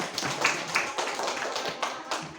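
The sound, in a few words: applause, clapping hands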